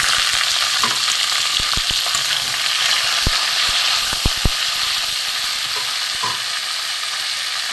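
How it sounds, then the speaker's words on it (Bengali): Okra and potatoes frying in oil in a pan after black cumin tempering, giving a loud, constant close sizzle and hiss with a few sharp pops and light stirring clicks. "এখানে আমি ঢেঁড়স আলুগুলো প্রথমে ভেজে নেব"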